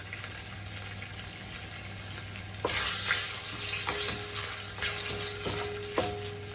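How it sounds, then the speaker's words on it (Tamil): About ten garlic cloves and asafoetida sizzle in hot oil with popped mustard seeds for Andhra-style gongura pickle, a steady close crackling hiss that swells louder partway through as the ingredients drop in, with a few sharp clinks of a stirring spoon. "இப்போ பூண்டு ஆட் பண்ணிக்கலாம். 10 பல்லு போல் ஆட் பண்ணுறேன். இதோடவே பெருங்காயத்தூள்,"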